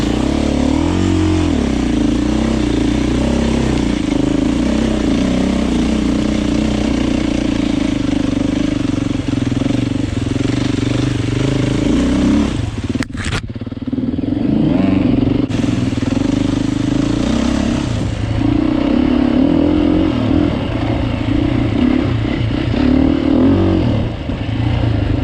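A 2024 Beta 390 Race Edition trail motorcycle ridden in second gear on a wet trail, its engine droning loud and steady right up close, briefly dipping and cutting out midway before pulling strongly again.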